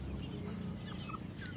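Chickens on a farm cluck softly in a brief snatch, fairly faint over a low rumble of outdoor background noise.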